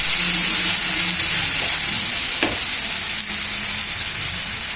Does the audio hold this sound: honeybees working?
no